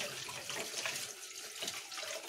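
Tap water runs steadily and close by as a dirty aquarium filter sponge is rinsed under it, a continuous splashing hiss with no talk.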